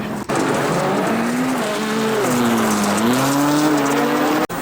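A VW Beetle GRC rallycross race car from the iRacing sim game, driving at Charlotte in fourth gear, its engine note holding steady and rising and falling gently in pitch throughout with no talk.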